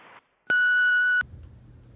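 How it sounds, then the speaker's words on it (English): Answering-machine voicemail tone before a message is recorded: one loud steady electronic beep lasting under a second, framed by brief clicks, then quiet line hiss. "Your call cannot be taken at the moment, so please leave your message after the tone."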